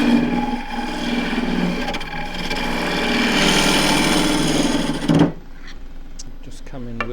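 A wood lathe turning a goblet while a 1-inch round-nose gouge cuts, giving a loud, steady rasping and whirring drone that stops after about five seconds, leaving quieter scattered taps and scrapes.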